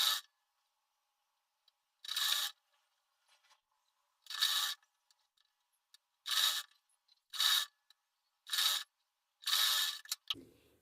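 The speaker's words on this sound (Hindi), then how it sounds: "तो देखो फ्रेंड्स इस तरह से ये हमने यहाँ पर पूरे पाइपिंग पे सिलाई लगा लिया है।" A sewing machine stitching piping onto a blouse sleeve, running in seven short, even bursts of buzzing whir separated by silent pauses, close and clear with no talking.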